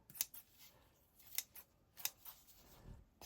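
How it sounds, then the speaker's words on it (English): Faint, close snips of scissors trimming sisal on a Christmas craft project, three or four crisp cuts spaced apart in a quiet room. "what I can do, look, is trim some of that sisal off"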